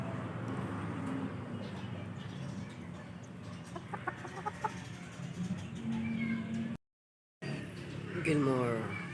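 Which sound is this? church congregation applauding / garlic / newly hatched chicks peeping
newly hatched chicks peeping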